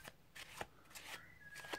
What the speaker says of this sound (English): and carry on shuffling